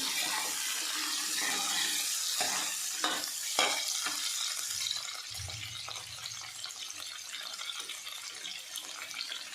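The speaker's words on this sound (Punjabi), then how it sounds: "ਦੇਖੋ ਪਿਆਜ਼ਾਂ ਨੂੰ ਅਸੀਂ ਸ਼ੈਲੋ ਫਰਾਈ ਕਰਨਾ" Chunky-cut onions shallow frying in a pan for restaurant-style palak paneer, giving a steady close hiss and sizzle with several clattering stirs of a spoon against the pan, then a softer sizzle.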